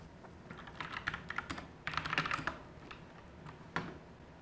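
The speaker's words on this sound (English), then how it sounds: "Waldo Ring is typing." Computer keyboard typing in short irregular bursts of clicky keystrokes, fairly quiet and close, with brief pauses between flurries.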